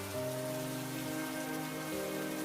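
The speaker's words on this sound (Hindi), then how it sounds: "मकान की कमजोर छत की दीवारों से बारिश का पानी टपक रहा था" Rain dripping and pattering through the weak roof of a poor family's house in a Hindi cartoon story, a steady wash of rain heard at moderate level beneath sustained background music tones.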